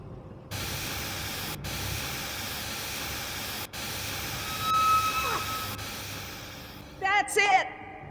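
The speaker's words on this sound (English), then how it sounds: "The steam has been vented." Steam vents with a loud steady spray hiss in Jurassic Park: The Game, running several seconds, briefly cut off, then surging again before a short chirping sound at the end.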